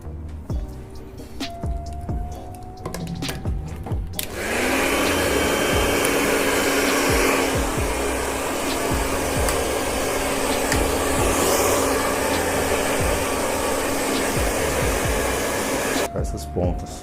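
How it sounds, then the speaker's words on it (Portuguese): A handheld hair dryer blowing on a child's hair during a haircut switches on after a few seconds of quiet handling noise, then a loud steady whooshing roar runs close by before cutting off near the end. "Vamos secar o cabelo de acordo com o que a gente percebe ele naturalmente, como ele cai."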